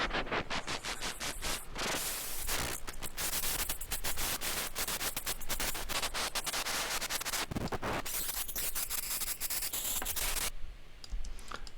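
Randomized noise samples in an Ableton sampler with FM applied, giving dense crackling static bursts and glitchy stuttering textures that switch abruptly and keep a constant loud level.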